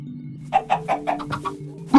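Minecraft chicken clucking in a video game, a run of about eight short bright clucks in quick succession followed by a louder squawk at the end, heard alone over a low steady hum.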